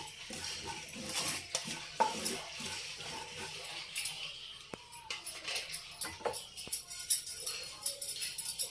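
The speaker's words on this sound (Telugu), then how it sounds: "ఇప్పుడు గసగసాలండి. వేడిగా ఉంది కదా, లాస్ట్కి వేయించుకుంటున్నాం." Poppy seeds dry-roasting in a hot pan for multigrain laddu, irregular scraping and clinking of a spoon against metal, moderately close, with soft crackle beneath.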